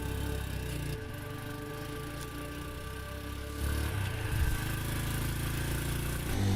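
A motorbike engine running at a steady idle, a low, even, fairly quiet mechanical hum that continues throughout with a slight swell near the end.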